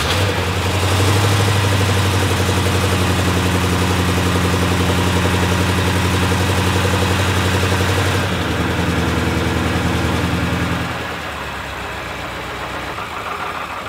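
A rebuilt BMW M5 engine, a built motor that previously had rod knock, idles steadily and loud, its even low rumble running for about eleven seconds before the tone drops and thins toward the end.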